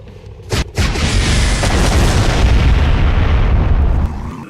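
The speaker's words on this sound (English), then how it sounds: "I don't know any other game that allows you to fire a couple hundred fuel air rockets in a split second." Hundreds of fuel air rockets fired at once in the video game Burnin Rubber 5 set off two sharp booms, then a loud, dense roar of overlapping blasts that rumbles for several seconds before trailing off.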